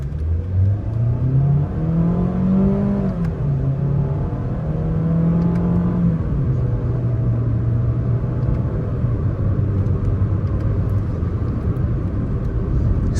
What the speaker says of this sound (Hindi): इस गाड़ी की अब हम ये थ्रॉटल रिस्पॉन्स चेक करेंगे